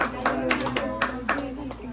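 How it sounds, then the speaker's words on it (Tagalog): A small group of people clapping their hands in a steady, quick rhythm close by, over a low background hum. "Bigyan na palakpak si Marky."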